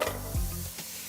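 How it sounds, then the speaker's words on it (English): Lean ground beef sizzles in a ceramic pan as goulash is cooked, a close steady hiss with a brief stirring scrape, heard alone. "Listen to the sizzle."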